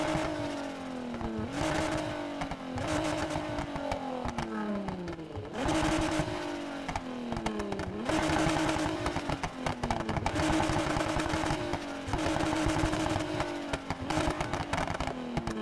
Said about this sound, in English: you know I like to show you what the engine swaps do sound like